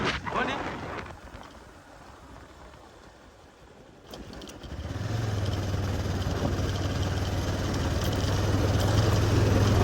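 A motorbike ridden along an unpaved dirt road, its engine drone and wind rush swelling after a quieter opening few seconds, then holding steady and loud to the end.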